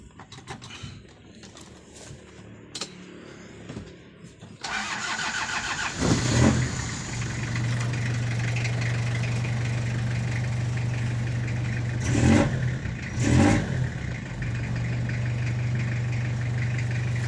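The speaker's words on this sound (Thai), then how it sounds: "เครื่องนิ่มๆเลยฮะเสียงเพาะๆเลยฮะ" Toyota Hilux Mighty-X pickup engine cranks and catches after quiet handling noises, then settles into a smooth, steady idle with a couple of brief revs, close by.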